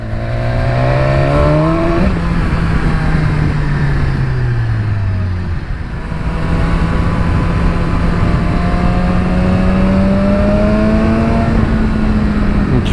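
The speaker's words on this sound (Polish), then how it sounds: "Dźwięk ma przepiękny ten silnik, naprawdę." A 2019 BMW S1000XR motorcycle engine runs loud and close, its tone rising and falling smoothly as the revs change, with a brief dip midway before it settles back into a steady drone.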